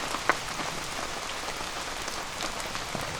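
Steady rain patters on a tarp and surfaces nearby at an autumn campsite with a beer keg fire, a dense, even hiss of drops with occasional sharper taps, and no voices.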